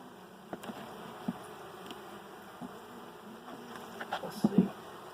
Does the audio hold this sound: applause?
no